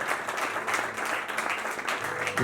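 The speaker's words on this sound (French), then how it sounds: "Sous vos acclamations, s'il vous plaît." A church assembly crowd applauds in a continuous, moderately loud wash of clapping that holds steady throughout, with a faint murmur of voices underneath.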